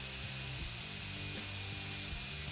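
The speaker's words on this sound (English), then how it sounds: "Picked up a wire wheel that goes on the end of a drill." A wire wheel spun by a drill scrubs the live edge of a wooden board for a river-style cutting board, giving a steady, close abrasive whir with faint rubbing pulses and no talking.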